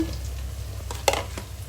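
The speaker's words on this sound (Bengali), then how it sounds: "এখানে আমি দেখুন হালকা ভাজাই করব, বেশি না। এখানে মিষ্টি কুমড়াটা দিয়ে দিচ্ছি" Sweet pumpkin frying lightly in a pan, a soft steady sizzle with a few brief stirring clicks and scrapes, close and quiet.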